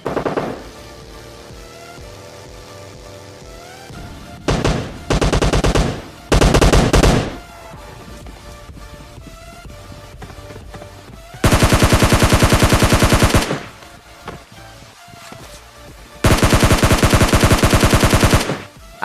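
Automatic gunfire in PUBG Mobile Lite, loud bursts of rapid machine-gun fire arriving in several long volleys between quieter stretches of game sound and background music.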